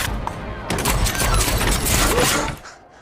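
Rapid bursts of sharp mechanical shots from a nail gun fire in quick succession, loud and close, tapering off at the end.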